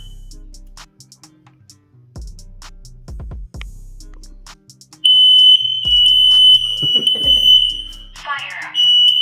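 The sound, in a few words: smoke detector alarm sounding during test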